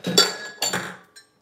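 Ice cubes are dropped into a blender jar while a peanut punch is prepared: two bright clattering clinks close together, then a faint final tick, near and crisp with no talking.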